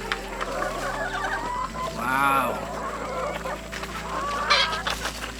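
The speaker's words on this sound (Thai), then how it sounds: "น่ารักเนี่ยเนาะไก่พวกนี้" Chickens on a backyard egg-laying farm cluck and squawk at feeding time, a busy overlapping chorus of hens near the listener, with a person briefly exclaiming in the middle.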